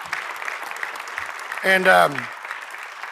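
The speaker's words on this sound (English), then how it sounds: "I want to give Bernie a round of applause." An audience gives Bernie a round of applause at a Sigma Pi award gathering, a soft, steady patter of clapping with someone briefly speaking over it.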